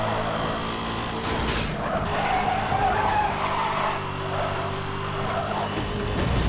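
Racing car in Need for Speed: Hot Pursuit (2010) accelerating hard along a dirt road near 300 km/h, a loud continuous engine roar with tire skidding and gravelly rumble throughout, no talking.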